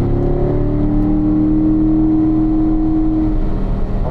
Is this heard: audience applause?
no